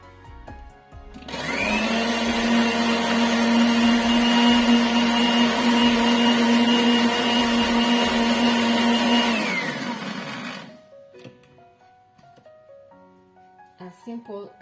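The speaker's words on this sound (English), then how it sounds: "Add milk and then blend." An electric blender whirs steadily for several seconds as it mixes milk and mayonnaise into coleslaw dressing, a loud even hum that starts abruptly and winds down to silence, followed by faint clinking.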